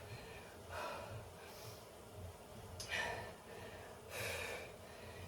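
Heavy breathing of a cyclist recovering after hill intervals on an indoor bike, three breathy gasping exhalations spaced a second or two apart over a low steady background hum, close and moderately loud, with no talk.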